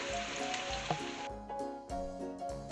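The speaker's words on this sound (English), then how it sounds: "So I'm just going to brown these off." Swedish meatballs browning in a hot pan, giving a steady close sizzle that stays fairly loud, with rhythmic tonal sounds running underneath.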